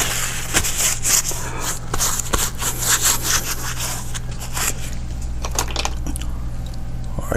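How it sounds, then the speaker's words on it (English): Scraping excess paint off a palette with a tool during an oil painting session, a steady rough rubbing scrape that runs the whole time in repeated close strokes over a low background hum. "All right, let's scrape some of this away."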